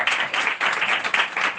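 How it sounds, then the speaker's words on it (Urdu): An audience at a Christian sermon bursts into loud, dense applause, a sustained wash of many hands clapping with slight rhythmic surges. "زندہ خدا کی قدرت کے لیے ایک بار زوردار تالیاں."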